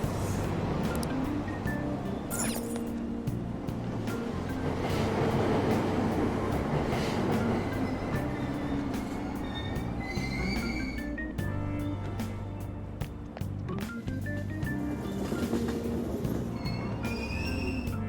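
A subway train in the Persona 5 Royal game pulls out of Aoyama-Itchome station: a loud, continuous rumble of wheels and cars with rhythmic rail clicks and occasional squeals, no voices.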